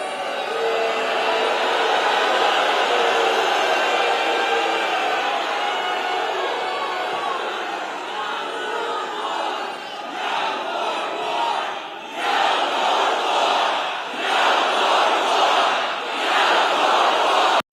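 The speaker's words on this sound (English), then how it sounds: "That crowd says it all. They are of one voice, no more war." A large rally crowd chants against war, loud rhythmic massed voices at first, then breaking into pulsing chant bursts and cheers that repeat in regular waves.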